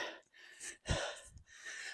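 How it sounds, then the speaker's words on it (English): Heavy, close breathing after running a beep test, with a few sharp gasping inhales and exhales, fairly quiet. "Despite the heavy breathing."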